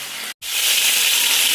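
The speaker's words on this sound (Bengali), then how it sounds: "দুটোতে মাছটা ভাজা গেল, এবারে মাছগুলো একটা একটা করে তুলে নেব।" Fish frying in oil for a lemon fish curry gives a steady, bright sizzling hiss, cut by one brief silent gap near the start before resuming loud and even.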